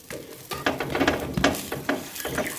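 An omelette pancake cooks in a pan, giving a steady close sizzle with soft, repeated scraping and pressing sounds from a utensil; no talking is heard.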